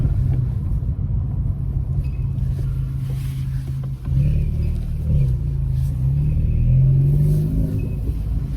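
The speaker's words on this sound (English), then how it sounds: "Oh, I've missed having an exhaust." A VW Scirocco 1.4 TSI Twincharge engine with the rear exhaust box removed rumbles low and loud through its exhaust, with a few rising revs near the end.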